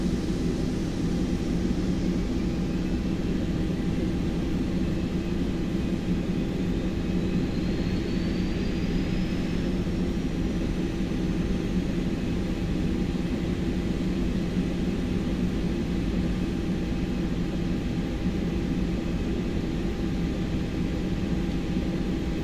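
An Airbus A330 jet engine starts up in a flight simulator as a steady, even roar of cockpit noise, with a faint rising whine spooling up partway through.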